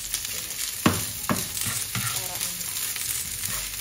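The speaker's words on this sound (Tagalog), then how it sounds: "Naglagay na rin ako ng konting olive oil. I-fried ko lang to ng konti." Oil sizzles in a hot clay pot with olive oil, close and steady, with a few stirring scrapes over the frying and no talk.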